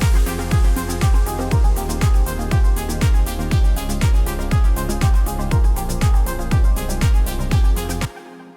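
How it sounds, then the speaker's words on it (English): Kick drum run through the bx_subfilter plugin on its bass drum extreme preset, booming, heavily resonant low thumps repeating steadily, roughly three per second, loud and up front alone before stopping abruptly. "I started with the bass drum extreme preset"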